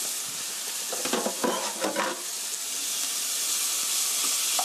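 Sliced bacon stir-frying in a pan with green onion, with a steady close sizzle and a few bursts of stirring scrapes near the start, alone and without talk.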